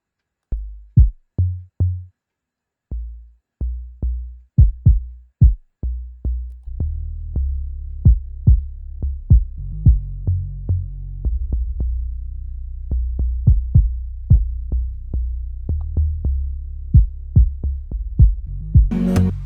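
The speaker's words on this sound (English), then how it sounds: "The drums is the kick and the bass." Deep, booming kick drum hits in a steady pulse, joined partway through by a low sustained bass line, with a brief bright crash near the end.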